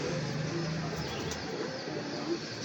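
Pigeons coo softly in a loft, with low, rounded calls that come and go against a steady background hiss.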